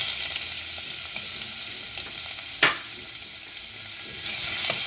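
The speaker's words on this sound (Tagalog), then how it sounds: "nagpainit na ako ng mantika sa isang kawali. Ilalagay ko na sabay yung bawang at sibuyas." Garlic and onion sauté in hot oil in a pan, a steady close hiss and sizzle with one sharp clack of a utensil partway through and no speech.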